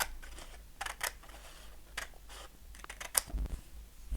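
Scissors or a blade snip a straight line through paper while crafting page tabs, giving quiet separate cuts and clicks with pauses between them, close up and with no speech.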